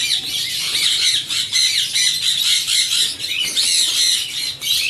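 A turquoise mutation ringneck parakeet breeder pair squawks continuously up close in a bird breeding farm, giving harsh, repeated shrill calls with no talking.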